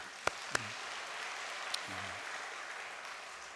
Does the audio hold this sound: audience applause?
yes